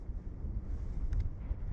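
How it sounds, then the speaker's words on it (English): Steady wind rushes and buffets against the microphone aboard a fishing boat on open water, a continuous low roar with gusts swelling and easing and a couple of faint brief higher clicks near the end. "wind's picking up"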